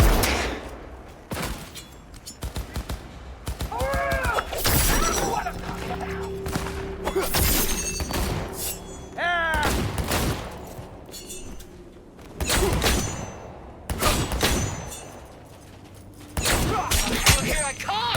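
Heavy gunfire in Cyberpunk 2077 erupts in loud, broken bursts with shattering crashes, while voices shout over the chaos and battle noise.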